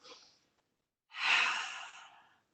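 Slow, deep breaths during a core-focused vinyasa yoga flow: a short exhale, a pause, then one long, full breath out that tapers off, close and soft.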